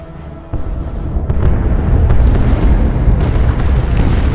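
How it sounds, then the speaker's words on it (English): Artillery strike explosions in the video game Dawn of War II, a sudden loud boom followed by a sustained rumbling roar of blasts, heavy and close. "Incoming artillery strike! Clear the target area!"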